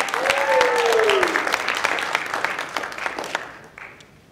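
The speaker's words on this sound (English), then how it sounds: "I would like us to clap for her" An audience applauds at a retail customer service and sales graduation ceremony: a dense, steady burst of clapping from many hands with a brief whistle-like tone early on. It then thins out and fades after about three and a half seconds.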